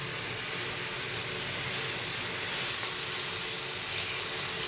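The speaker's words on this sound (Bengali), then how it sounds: "এখন আমি কচুগুলো দিয়ে দিচ্ছি" Taro pieces dropped into hot oil fill the pan with a steady, close hiss of sizzling. The sound holds even throughout with one brief swell.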